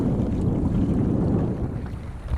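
Gusty wind buffets the microphone aboard a Hobie Adventure sailing kayak near Pensacola, a loud, steady low roar with rushing air and faint water noise beneath.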